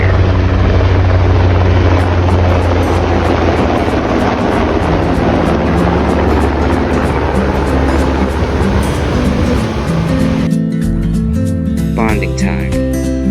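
Close and loud, a helicopter's steady rotor chop and turbine roar fill the air over the Southern California coast near Laguna Beach, then change abruptly toward the end as it passes.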